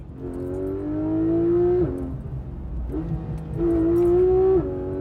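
A Porsche GT3 RS engine pulls hard while driving, rising in pitch through two long, loud accelerations, each ending in a sharp drop at the gear change, with a quieter lull between them.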